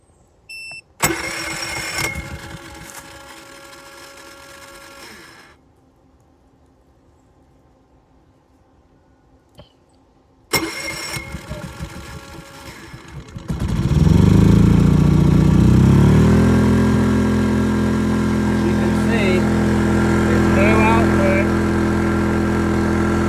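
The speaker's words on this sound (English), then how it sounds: "So I'm gonna start the generator." An EcoFlow Smart Generator engine cranks in two short attempts, then catches and settles into a steady, loud running drone that continues to the end.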